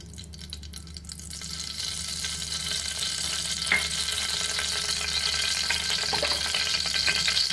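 Whole cinnamon, cardamom and cloves fry in hot oil in a pan, a continuous close sizzle that swells slightly as it settles, with a couple of faint stirring knocks.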